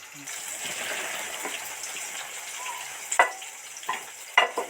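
Potatoes and tomatoes fry in a pan with a steady close sizzle, broken by several sharp spatters and stirring scrapes toward the end.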